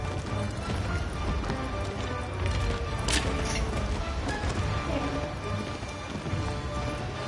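Horse hooves clatter in a fast, continuous gallop in the video game Shadow of the Colossus, amid dense game background noise, with a brief sharp crash partway through.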